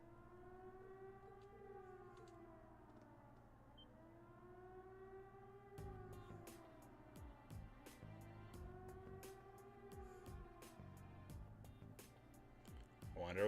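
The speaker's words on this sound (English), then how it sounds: "Sounds like a siren." A civil defense siren wails from a fort in the video game Trails of Cold Steel, its pitch rising and falling in long slow sweeps, distant and low, with sharp clicks and game sounds joining partway through.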